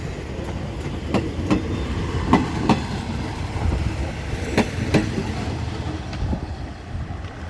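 Ordinary train 260 pulls slowly into track 3 at a station, steady rolling rumble with evenly spaced clickety-clack wheel beats over rail joints, near and fairly loud throughout.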